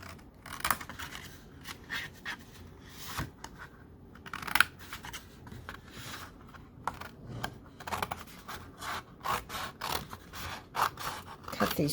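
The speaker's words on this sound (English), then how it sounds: "cut these 3 squares off" Scissors snip through paper for a Stampin' Up! treat-bag craft, a series of close, sharp cuts in irregular bursts with brief pauses between strokes.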